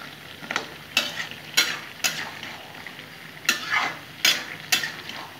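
A spatula stirs katla fish head and bottle gourd in a pan with a string of sharp, scraping strokes at an irregular beat. Under the strokes runs a low, steady sizzle, all close up and without speech.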